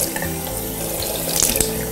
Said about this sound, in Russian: Прохладной водой делаем такой аквамассаж.